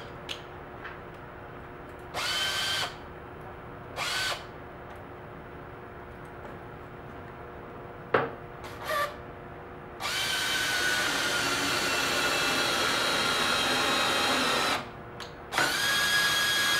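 A power drill drives a 2 3/4 inch hanger bolt into a wooden panel in several short whirring bursts between quiet pauses, then one long continuous run and a final brief burst, close and clear.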